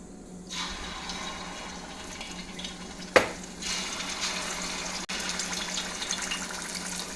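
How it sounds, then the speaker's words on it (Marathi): Marinated chicken tikka frying in hot oil over medium heat, a steady crackling sizzle throughout, broken by a sharp knock or clatter midway and a brief dip later. "मीडियम गॅसवरती आपण आता हे फ्राय करून घेऊयात।"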